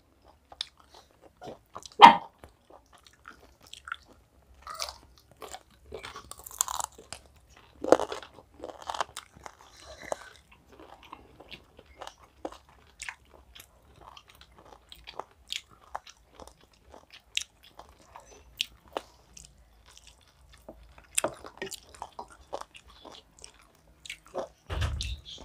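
Scattered crunchy bites and chewing of chicken biryani meat, close and sporadic over a long quiet stretch, with a sharp thump near the end and no talk.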